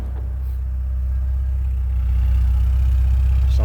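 A stock-exhaust 1986 Porsche 944 coupe idles from behind the car, a steady, smooth low engine hum that stays constant and slightly swells, with no talking.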